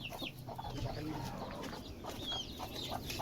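Chickens cluck softly at a farm coop, with several faint, scattered calls over a low background hum.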